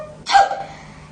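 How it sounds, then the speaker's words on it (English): A single sharp sneeze in a children's story reading, one loud, close, abrupt burst that quickly fades. "Presently Peter sneezed."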